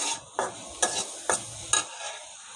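Fish and taro sautéing in a pan: four evenly spaced scraping strokes of a spatula over a soft, quiet sizzle, close up with no voices.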